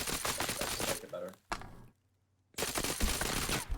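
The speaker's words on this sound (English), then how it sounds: "I like to hear the burst and the gunfire" MG3 machine gun in a video game firing loud, rapid bursts, a long rattling burst, a brief pause, a short burst, then silence before another sustained stretch of automatic fire.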